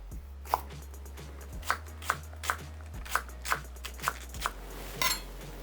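A knife chops a green onion on a board in a run of about a dozen evenly spaced crisp cuts, close and fairly quiet over a steady low hum, ending in a quicker flurry; no voices.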